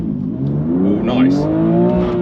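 A BMW, either an M2 Competition or an M140i with a six-speed manual, accelerates hard in a drag race, its engine note climbing steadily in pitch, loud and close.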